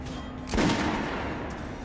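A single gunshot from a weapon on a shooting range in the video game Metro Last Light, sharp and fairly close, with a short reverberant tail fading over a steady background hum.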